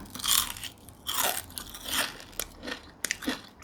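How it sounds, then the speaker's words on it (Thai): Crispy batter-fried small crabs crunched between the teeth, several loud close bites and chewing crackles in quick bursts with short pauses between. "กรอบดีดี ปูน้อยซุปแป้งทอดกรอบ"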